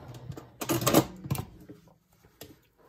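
A sewing machine stitches elastic back and forth in short mechanical bursts, one longer run of rapid needle clatter followed by a brief second burst, separated by quiet pauses.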